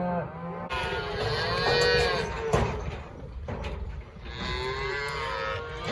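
Several cows moo loudly and repeatedly, long drawn-out calls overlapping one another at close range, with a brief clatter midway.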